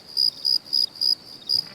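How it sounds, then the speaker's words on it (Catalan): Cricket chirps ring out in five evenly spaced, bright bursts over a quiet background, close and clear, with no other sounds or voices. "on són los grills quan un els necessite?"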